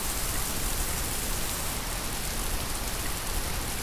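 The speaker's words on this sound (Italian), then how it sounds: "Ancora rumori della pioggia." Steady rain falls as a dense, even hiss of drops on a surface, continuous and fairly loud throughout, used as natural noise for tinnitus, with no voices.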